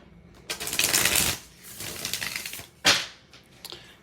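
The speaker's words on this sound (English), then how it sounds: "let me shuffle this real quick" Tarot cards are shuffled in close, crisp riffling bursts, two main shuffles with a softer patter between, fairly quiet and with no talk.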